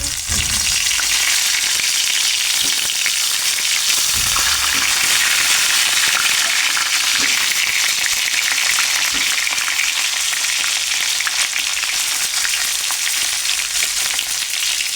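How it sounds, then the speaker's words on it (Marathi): Stuffed brinjals fry in hot oil, making a loud, continuous, close-up crackling sizzle that holds steady throughout with scattered pops and no talking. "इकडे मी तेल तापत ठेवले बघा थोडे आणि आता मी याच्यात मी भरलेली सगळी वांगी ॲड करणार"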